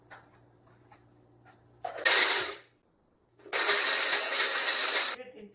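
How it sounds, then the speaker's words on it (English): A kitchen blender grinds a half teaspoon of fennel seeds into a coarse powder in two loud, harsh whirring bursts, a short one and then a longer one, with a silent pause between them. "And we are going to give it a blend and make it into a powder."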